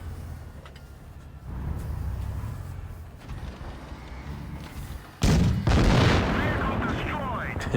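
Heavy cannon fire from the T-30 tank's 155 mm gun in World of Tanks Blitz, a sudden loud boom with a long rumbling tail, following a stretch of lower engine rumble and distant battle noise.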